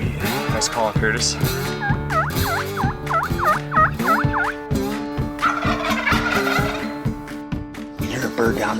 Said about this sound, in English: We hear a bird down in the canyon,